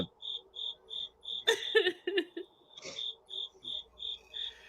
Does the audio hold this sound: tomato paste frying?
no